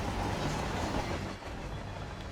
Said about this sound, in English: so we just made it past that train car